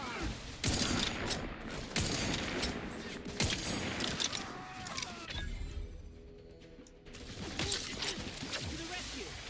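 Gunfire from The Outer Worlds 2 in a firefight at a Protectorate checkpoint: bursts of rapid shots and impacts, loud and close, with a brief lull, under game character voices.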